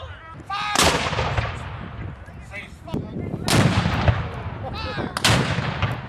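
Cannon fire at a Civil War reenactment of the Battle of Atlanta in Keokuk, Iowa, three heavy booming blasts spread out over several seconds, loud and close, each one rolling and echoing away.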